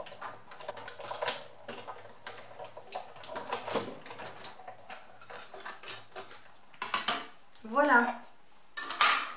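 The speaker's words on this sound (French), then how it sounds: "je vais passer donc le tout dans ma machine" A die and card stock are run through a manual die-cutting machine, making a series of close clicks, taps and ratcheting clatter, with a short spoken word near the end.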